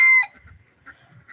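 A farm chicken going to roost lets out one loud, brief call at the start, then only faint, low clucks and rustling follow.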